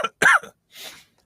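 A cough from a man with a cold, a short harsh burst followed by a fainter breathy second one, close and alone with silence between.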